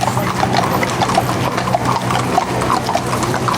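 Horse hooves clip-clop in a steady rhythm over a constant rumbling background, several animals passing at moderate distance during a candlelight vigil in Washington, DC.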